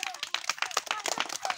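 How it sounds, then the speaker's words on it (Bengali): A small group claps hands for a few seconds at an indoor prize-giving, quick uneven bursts of applause close by, with voices mixed in. "হাততালি দাও সবাই"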